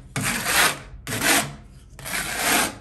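A scraper drags across a patched screw hole in a wooden surface, making three long, loud rasping strokes in a steady rhythm, each about three-quarters of a second long, heard close up and without talking.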